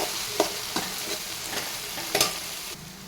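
Onions fry in a pan over medium flame while a spoon stirs them, giving a steady sizzle broken by several sharp scraping clatters, close and clear with no talking.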